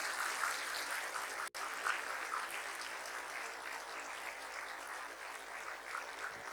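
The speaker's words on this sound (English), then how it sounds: "Can I request all of you to applaud your parents who have brought you to where you are today?" An audience at a 2024 commencement ceremony claps for the graduates' parents in sustained, dense applause, with one brief cut partway through and no talking over it.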